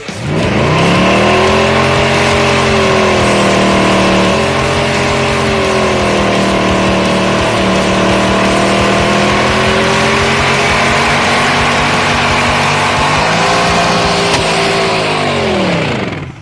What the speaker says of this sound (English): Or we could do more burnouts.